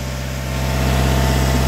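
A warm 2 L diesel engine in a Peugeot Expert van idles steadily, close and loud, with an even low thrum and fine regular pulsing throughout.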